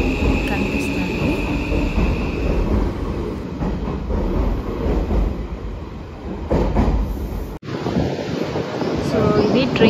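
A train runs through Hakone, Japan, a continuous low rumble of wheels on track with wind noise, heard from inside the carriage, dipping briefly before resuming.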